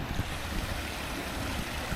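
A small stream flows steadily in the grounds of Tokyo's Imperial Palace, a continuous broadband rush of water that stays constant and fairly close throughout, with no voices.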